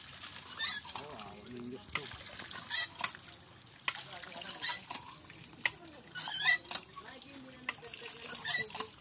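Water from a newly drilled well on a rocky mountain splashes and trickles in quiet, uneven bursts with clattering handling noises, while people talk throughout.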